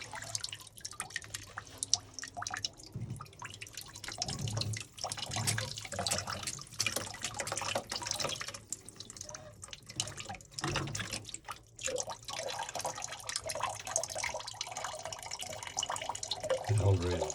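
Water runs and drips from an opened drain valve during plumbing winterizing at a camp, a steady faint trickle with irregular splashes and knocks, quiet and close.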